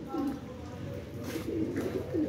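Pet pigeons cooing at night on a rooftop loft, a soft repeated low rolling coo that recurs several times close by over a steady background hum.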